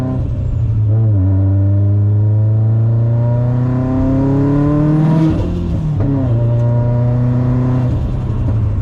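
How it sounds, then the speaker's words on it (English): A turbocharged Subaru STI making 760 wheel horsepower accelerates hard from inside the car, its engine note climbing through the gears with brief drops at each shift, loud and close, with turbo whine layered over it. "Man, that turbo spools up quick."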